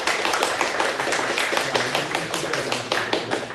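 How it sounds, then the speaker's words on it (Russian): A crowd at an offline esports tournament playoff applauds steadily, many hands clapping in a dense, continuous patter that stays even throughout. "Я даже здесь слышу аплодисменты"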